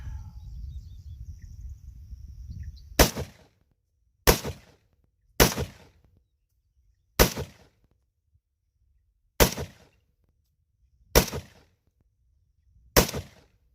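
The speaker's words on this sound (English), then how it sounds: "I'm gonna try to shoot these targets as fast as I can." Seven sharp M1 Garand rifle shots fired rapidly at targets outdoors, loud separate cracks spaced about one to two seconds apart, each with a short decay.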